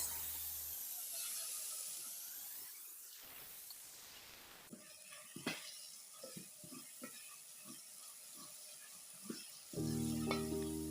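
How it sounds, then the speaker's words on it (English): Garlic and onions fry in a pan with a continuous soft sizzle and hiss, punctuated by small crackles and pops and occasional stirring scrapes, fairly quiet and close, with no talking. "we fry our garlic and onions until they are golden brown before adding the tomatoes"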